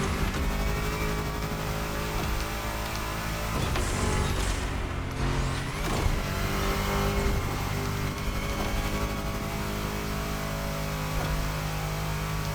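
A race car in a racing video game brakes for a turn. A loud, continuous engine roar dips briefly in the middle before the steady drone resumes.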